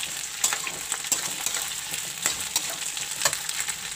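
Onion and capsicum fry in a pan with a soft, steady sizzle and occasional sharp clicks of a spoon stirring, quiet and close with no talking.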